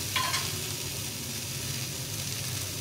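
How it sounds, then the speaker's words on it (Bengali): Water poured into a hot pan of cooking greens seeds: a loud, close, continuous hiss and sizzle with a brief splash at the start, steady throughout with no voices. "এখন একটু হালকা করে জল দিয়ে দিব"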